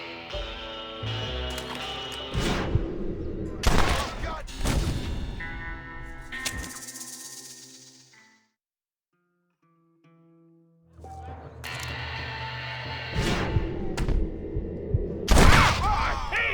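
Gunfire in Red Dead Redemption on PS5, with several loud, sharp shots in quick bursts over game music, then a stretch of near silence before more shots ring out.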